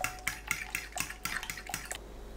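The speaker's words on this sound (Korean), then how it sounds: "계란 3개, 고운 소금 2꼬집 넣고 계란을 풀어주세요" Three eggs with two pinches of fine salt get beaten in a bowl with quick, rhythmic whisking, about nine sharp clacks of utensil against the bowl close by, then a brief quiet stop, with no voices.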